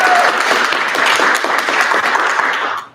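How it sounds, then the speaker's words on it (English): An audience at a literature department day claps for the first speaker being introduced, a loud, dense burst of applause that holds steady for a few seconds before fading out at the end. "You can clap as I introduce each of them"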